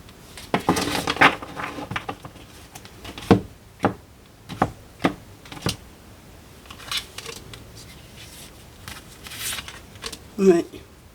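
A deck of playing cards being cut and drawn, giving a string of soft, close slaps and snaps spaced irregularly through the passage, with a voice talking between them.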